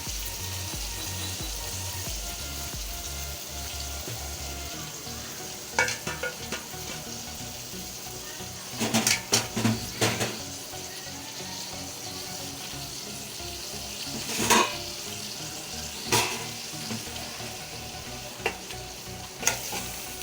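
Marinated beef mince (keema) fries and sizzles in a pan over medium heat, with a steady sizzle broken by scraping stirs and clattering spoon knocks, close and alone with no talk.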